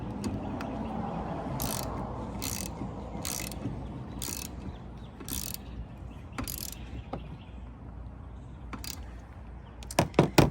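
A ratchet tightens a nut on a Jeep Wrangler windshield wiper and cowl, giving close bursts of quick clicking with pauses and small metallic knocks, and no talk.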